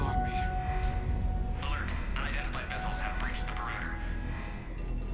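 An alarm in the Mass Effect 3 video game sounds a series of about six evenly spaced, high electronic pulses over a constant low hum.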